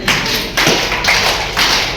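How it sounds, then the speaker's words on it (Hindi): A group at a teachers' orientation camp in Namsai claps together in unison, four loud, sharp bursts at an even, steady rhythm, close by with no talking. "ताली बजाओ।"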